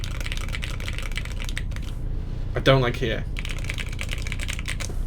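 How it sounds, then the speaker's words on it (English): A custom mechanical keyboard with stabilized keys is typed on in rapid, steady clacking bursts up close, with a voice briefly speaking partway through. "But the stabilized keys sound amazing."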